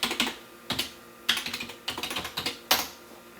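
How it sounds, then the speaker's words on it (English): A computer keyboard being typed on, quick irregular clusters of clicky keystrokes with a few heavier taps, close and moderately quiet, no voices. "we're just going to have to type in the URL"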